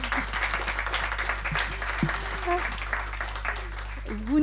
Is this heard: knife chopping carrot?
no